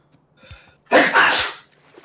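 A single sharp sneeze, loud and close, preceded by a short breathy intake and trailing into quiet.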